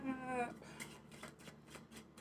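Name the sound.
shuffling playing cards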